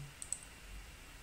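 A computer mouse gives two quick, faint clicks in close succession over a quiet background hum.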